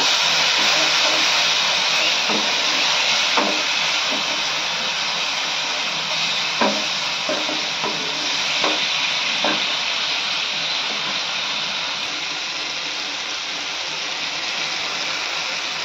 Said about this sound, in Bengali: এবারে সামান্য পরিমাণে জল দিয়ে দেবো, দিয়ে মশলাটাকে কষিয়ে নেব।